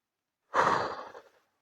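A single slow, deep breath, drawn in and released as a soft airy exhale, close and quiet in an otherwise silent space.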